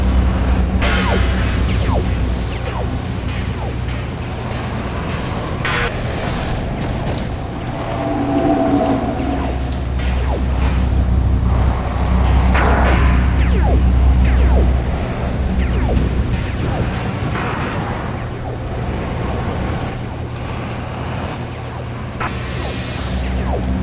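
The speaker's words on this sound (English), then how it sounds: "Here how his laser, Robion's laser, got higher pitched once it actually started impacting me" An enemy's laser in the space game Sylph hits the player's ship and climbs in pitch, giving scattered zaps and whip-like cracks over a heavy, rumbling engine drone.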